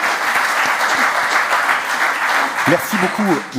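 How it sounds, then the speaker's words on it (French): Loud, dense audience applause fills a studio broadcast, with voices briefly speaking over the clapping near the end. "ça mérite encore des applaudissements"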